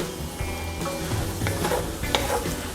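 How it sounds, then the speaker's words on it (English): Butter and garlic hiss and sizzle while a cast iron skillet is deglazed and stirred, a dense continuous crackle close up with a faint low hum beneath and no speech. "Just enough to really deglaze the bottom of that pan"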